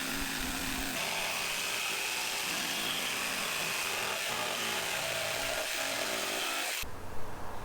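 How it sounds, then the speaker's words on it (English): A power sander running steadily on wooden fence pickets being turned into a hat rack, a continuous buzzing whine at moderate level that cuts off near the end. "I'm going to sand these really quick."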